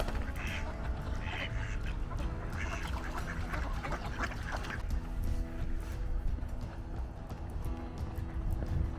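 Ducks quack in scattered bursts over a busy outdoor background in Alpena in January, moderately close, with a steady low rumble underneath.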